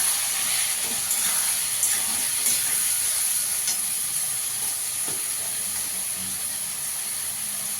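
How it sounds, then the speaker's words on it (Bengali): Grated tomatoes hit a hot pan of fried potatoes and set off a constant sizzling hiss with a few faint clinks, heard alone at moderate loudness. "দিয়ে দেবো টমেটোটা"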